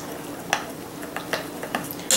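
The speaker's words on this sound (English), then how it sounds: "So just stir it up so it looks all good and delicious." A spoon stirs orange zest into a shortbread mixture in a bowl, making soft scraping sounds with a few sharper clinks against the side. The sounds are close and moderate, and there is no talk.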